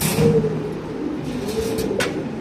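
Lahori pigeons cooing, a low soft rolling coo near the start and another later, over a steady background hum, with no voices.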